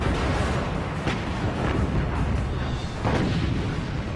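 Heavy naval artillery, 14-inch broadsides fired at the battleship Bismarck, rumbles as a continuous roaring barrage, with a few sharper blasts standing out from the dense, loud low-end din; no talking.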